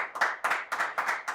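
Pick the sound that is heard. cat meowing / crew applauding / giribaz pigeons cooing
crew applauding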